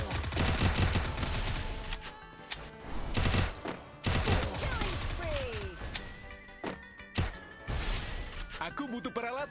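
Battle royale game gunfire: rapid bursts of automatic shots and sharp cracks, loud and close, in clustered volleys with brief gaps, mixed with other game effects.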